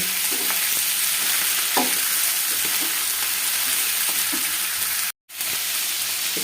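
Chicken liver cooking with spices in a pan, a constant loud sizzle and frying hiss with occasional stirring scrapes and clinks, broken by one brief dropout near the end.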